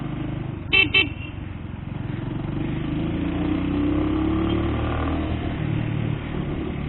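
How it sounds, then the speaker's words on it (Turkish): Two short car horn honks sound close together near the start over a steady traffic and engine rumble, with a vehicle passing in the background. "kornaya basıyorsun"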